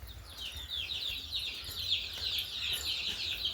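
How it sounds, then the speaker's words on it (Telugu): Three egg-laying hens cluck in a steady, continuous stream of short calls at close range, with no talking. "సో మొత్తం 3 కోళ్ళు ఉన్నాయి, 3 కోళ్ళు పెడుతున్నాయి."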